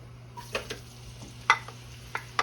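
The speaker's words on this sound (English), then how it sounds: "I'm gonna saute some garlic and onions in here. I'm gonna put my onions in here first" Onions sautéing in a pot before ground meat goes in, a soft low sizzle under a steady hum, with a few sharp utensil clicks and scrapes scattered through.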